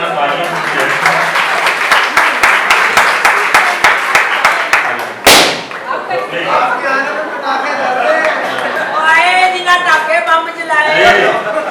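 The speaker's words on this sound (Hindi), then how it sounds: "आप सब तालियां" At a domestic workers' May Day gathering at a press club, the audience claps to welcome a guest. Loud individual claps ring out at first, then a sharp bang cuts in, and voices and chatter take over.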